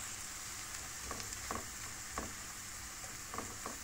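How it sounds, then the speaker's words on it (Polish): Onion frying in butter in a pan, a steady soft sizzle with a few faint crackles and stirring clicks, quiet and continuous with no talk. "Trochę przypieczemy ją, podsmażymy i rzucimy do tego nasze borowiki."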